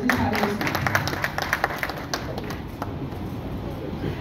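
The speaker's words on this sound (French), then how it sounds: "que je vous demande d'applaudir chaleureusement." Warm audience applause at the launch of a feminist summer university event in Haiti, a steady wash of many hands clapping at moderate distance, with a few sharper claps standing out early before it settles into an even patter.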